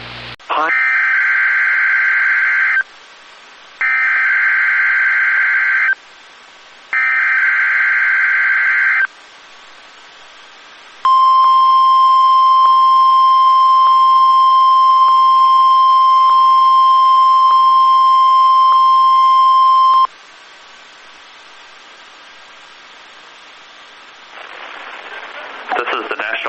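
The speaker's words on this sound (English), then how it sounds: "The preceding signal was a test of the NOAA's National Weather Service public warning system." NOAA National Weather Service public warning system test from the Honolulu, Hawaii office: three loud, steady electronic alert bursts with short gaps, then a long, sustained single-pitch attention tone lasting about nine seconds, followed by quieter broadcast noise.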